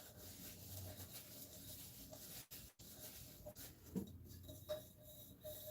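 Sandpaper rubs around the edge of a tumbler in soft, steady scratching strokes close by, broken by brief pauses and a couple of light taps.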